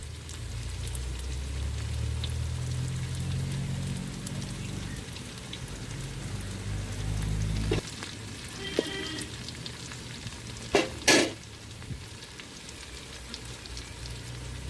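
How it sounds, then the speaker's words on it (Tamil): Onions frying in a pan until golden brown for a sankara fish curry, a dense crackling sizzle like rain, close and steady throughout, with a few sharp knocks of a utensil later on and no one speaking. "வெங்காயம் வந்து நல்லா பொன்னிறமாக வதங்கணும்."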